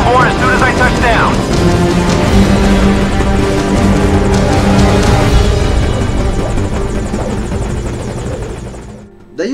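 A helicopter in Metal Gear Solid Ground Zeroes roars with a loud, steady rotor drone and engine whine that fades slightly toward the end, with voices talking underneath.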